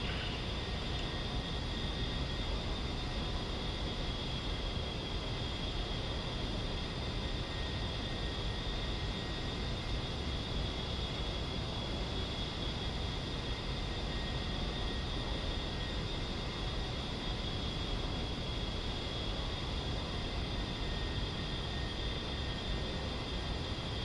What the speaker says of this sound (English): You can hear the engine change pitch when I'm adjusting the throttle here.